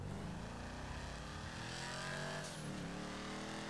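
V8 engine of the Phoenix muscle car in GTA Online, a steady loud drone with a rising rev in the middle and a slight dip, continuous and close throughout with no talk.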